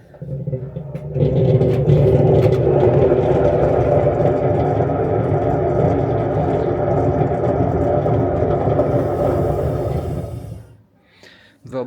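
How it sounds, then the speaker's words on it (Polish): An AEG washing machine with damaged bearings runs with a loud, steady, grinding rumble that holds for about ten seconds, then winds down and stops. "A ona naprawdę dość głośno hałasuje."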